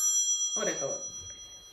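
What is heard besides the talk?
phone ringing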